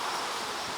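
Honeybees crowd around a small virgin queen in a hive, a dense, steady buzzing hum that fills the whole moment, close and constant, with no voices.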